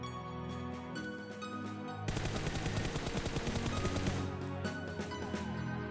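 Automatic gunfire crackles in the mobile battle royale game PUBG Mobile, starting in a steady stream partway through and holding close and dense for a few seconds over the game's background ambience.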